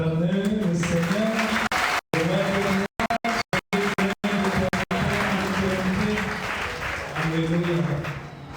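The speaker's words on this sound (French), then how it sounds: "Est-ce qu'on peut encore acclamer le Seigneur?" A church congregation at a Sunday service claps in loud, steady, sustained applause, close and dense, with several abrupt dropouts partway through and a slight fade toward the end; voices are audible mixed into the clapping.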